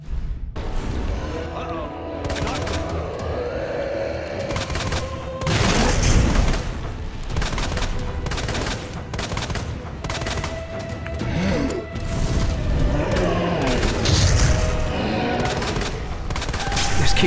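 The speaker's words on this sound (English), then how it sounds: "Just keep shooting him." Repeated gunshots during a Resident Evil 2 Remake boss fight, a continuous run of heavy shots and booming impacts with scattered game effects, loud throughout.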